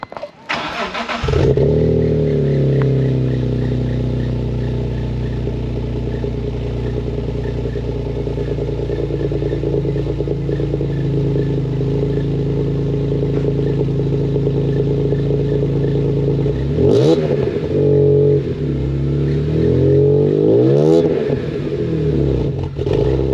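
A BMW M3 engine with a newly fitted custom exhaust starts up and idles with a deep, loud exhaust rumble, rising into revs near the end.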